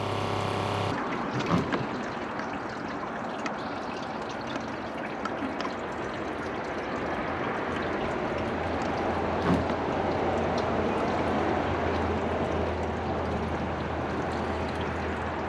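A Kohler Cimarron toilet, partly clogged, flushes with a steady rushing and gurgling water roar that holds nearly continuous for about fifteen seconds after a brief quiet start, with occasional louder splashes.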